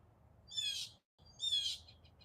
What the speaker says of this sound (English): Hear the lovely birds